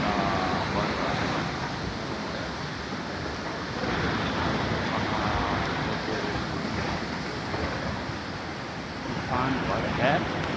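The swollen Tons River at Tyuni, flooded after heavy overnight rain, roars in a continuous broadband rush close by, with wind buffeting the microphone and someone talking over it.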